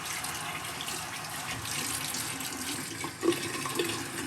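Water running steadily from a bathroom tap into a sink, a continuous soft splashing hiss at low level with a slight bump partway through as something enters the stream.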